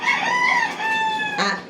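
A rooster crows close by in one drawn-out, wavering call with bright harmonics, followed by a short clucking burst from the bird, loud and clear with no voices over it.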